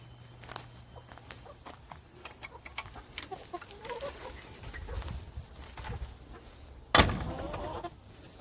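Backyard homestead chickens cluck softly in the morning, with scattered pecking and scratching sounds. A sudden louder burst of noise comes near the end, and all of it is heard close by without talk.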